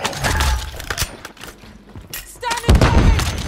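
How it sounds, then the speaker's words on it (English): Video game gunfire aimed at the player comes as sharp scattered shots and booms at varying distance, mixed with other game noise and intermittent talk. "who's shooting at me?"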